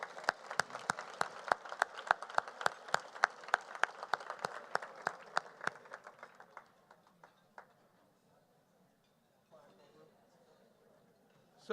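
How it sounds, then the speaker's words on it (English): A large audience at a keynote luncheon claps in a crisp, fairly close round of applause that thins out and fades after about six seconds, leaving quiet room noise with brief talk at the end. "a big round of applause for Ed Redfern."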